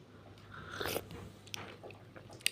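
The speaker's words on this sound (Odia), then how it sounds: "ଚା ବିସ୍କୁଟ ଖାଉଛୁ?" Tea biscuits being bitten and chewed close up, with a few crisp crunches and softer chewing sounds in a quiet room.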